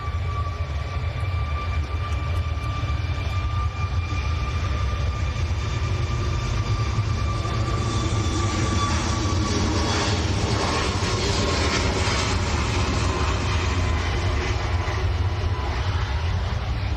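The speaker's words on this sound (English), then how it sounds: "No, this is a 747." Boeing 747 at Manchester Airport: a sustained, loud, broadband engine roar with a deep rumble and steady whining tones, swelling in the middle and holding to the end, with no talk over it.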